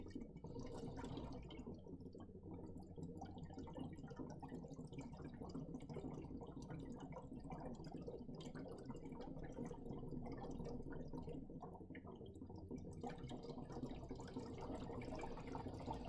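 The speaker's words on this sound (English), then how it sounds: "we will bubble some of the carbon dioxide from the cylinder into this mixture of water with some sodium hydroxide" Carbon dioxide gas from a cylinder bubbles into water mixed with sodium hydroxide, a faint, steady stream of soft gurgling and fizzing with no break.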